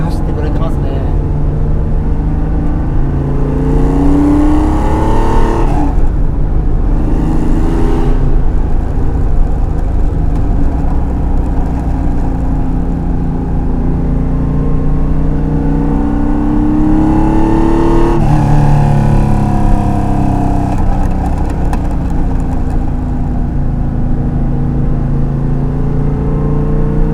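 Porsche 911 SC RS with Le Mans-spec tuning cruising an empty Tokyo street early on a Sunday morning, its flat-six droning steadily with gear changes and rising engine pitch beneath continuous talk.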